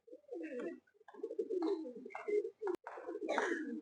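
Cooing of Madrasi pigeons, a series of close, throaty, rolling coos in irregular bursts with short pauses between them.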